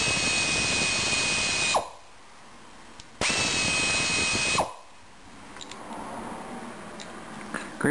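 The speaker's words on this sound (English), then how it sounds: "blue point, 3/8 air ratchet" A Blue Point 3/8 air ratchet, model AT700E, runs in two loud, close bursts of high-pitched whirring, each about one and a half seconds long and cutting off sharply, with quiet gaps after each.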